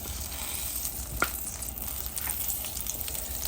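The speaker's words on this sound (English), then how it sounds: "Pan is nice and hot, so it's going to take this butter no time at all to become nice and melted" Butter melting in a hot pan while making a scalloped potato casserole, a soft, steady sizzle and gentle crackle with one brief scrape, close and fairly quiet.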